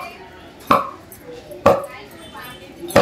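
Fish cut into small pieces with a knife at an old fish market: three sharp, spaced chops on a board about a second apart, close and loud, over soft background murmur.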